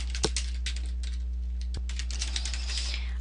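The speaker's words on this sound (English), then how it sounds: "I'm just going to type a little bit of content on here" Typing on a computer keyboard while writing page content in WordPress, a quick irregular run of close, crisp key clicks with a couple of sharper taps, over a steady low hum.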